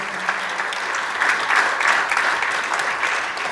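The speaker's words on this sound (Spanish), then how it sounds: "¿Le puede dar aplausos al Señor en esta hora?" Church congregation applauding together, a dense continuous wash of clapping from many people that swells slightly in the middle and holds steady to the end.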